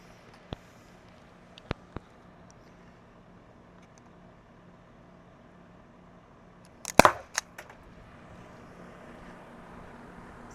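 A Byrna CL launcher loaded with five rounds fires through a chronograph: a few light clicks early on, then a sharp cluster of loud pops with a brief rattle around the middle, nearby and without speech.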